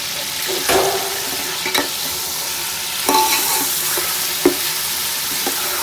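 Chicken frying with salt in a pot, a loud, even sizzle with periodic scraping stirs and clacks of a spoon against the pot, no talking.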